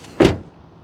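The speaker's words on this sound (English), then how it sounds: "let's listen to the sound of the closing door." A 2024 Toyota Land Cruiser First Edition door slams shut once, giving a single short, solid thump close by, with quiet surroundings before and after.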